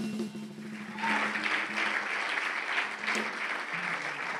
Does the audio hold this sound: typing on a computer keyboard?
no